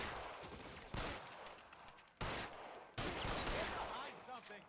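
Gunfire in the video game L.A. Noire, with three sharp loud bursts that ring out and decay, spaced a second or so apart over a noisy background.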